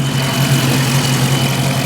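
A Dodge Challenger SRT 392 Hemi V8 from a totaled car idles nearby with a steady, low, even rumble and no speech.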